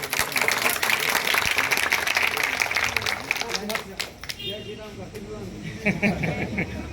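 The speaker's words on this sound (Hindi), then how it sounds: "जोर हाथ ताली हो जाए।" An audience at a neighborhood gathering in Aakash Nagar Colony claps hands loudly in a dense burst of applause for about four seconds, which then thins out as talking continues.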